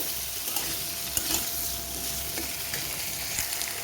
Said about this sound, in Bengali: এবার আমি কিছুক্ষণ তেলের সাথে, কালো জিরের সাথে আমি নেড়ে চেড়ে নেব।